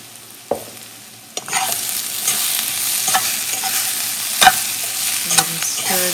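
Spices including coriander and cumin powder with paprika being stirred in a pot for a dairy-free coconut sweet potato curry, a quiet sizzle that grows louder after a clack, with scraping stirs and utensil knocks.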